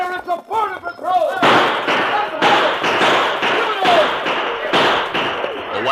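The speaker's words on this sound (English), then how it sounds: "Captain Sancho's men opened fire from both sides of the line of halted wagons" Gunfire from a radio drama ambush on a line of halted wagons by a border patrol, with repeated loud broadband bursts and shots in rapid succession, packed closely amid shouting voices.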